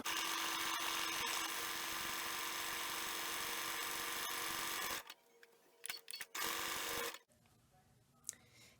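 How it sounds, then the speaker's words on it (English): Sewing machine fitted with a fringe looping foot stitching a seam, a steady loud buzzing whir running for about five seconds, then stopping, followed by a few short bursts and faint handling clicks. "So let me go ahead and stitch this seam."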